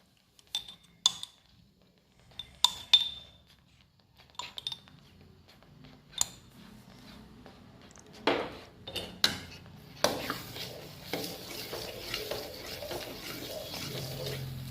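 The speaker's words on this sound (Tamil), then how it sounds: "சேர்த்து கிண்டிக்கிட்டே இருக்கணும்" A spoon stirs almond halwa cooking in ghee in a pan, giving a few sharp metallic clinks and scrapes against the pan, then a softer, steadier stirring texture as the mixture thickens.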